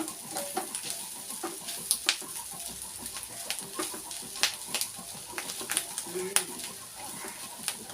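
Jackfruit curry fries and gets stirred in a pan: a faint steady sizzle under frequent scraping, clinking stirs, close but quiet, with soft clucking from chickens nearby and a voice talking intermittently.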